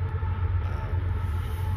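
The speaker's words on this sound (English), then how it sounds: "You can hear a train in the background." A train rumbles steadily in the background near a railroad track beside the Western Maryland Rail Trail at a campground, a continuous low, distant drone with no talking.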